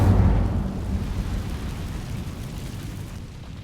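An Incendio fire spell goes off in Hogwarts Legacy, opening with a loud, deep burst that rolls into a long rumbling roar and slowly fades away.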